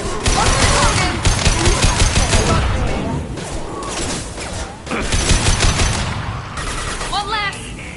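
Rapid gunfire rattles through a Mass Effect 2 firefight in dense, loud bursts with short lulls, while voices shout over the shooting.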